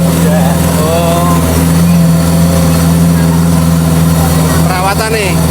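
A Jeep Willys fitted with a Toyota Kijang engine climbs a steep slope on Mount Merapi, its engine roaring loud and steady close by as it revs uphill, with voices faintly in the background.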